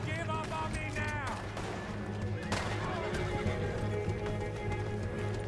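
A horse whinnies loudly amid hoofbeats in Red Dead Redemption II, a shrill neigh rising early on over a busy bed of clip-clop, scattered gunfire and background game noise.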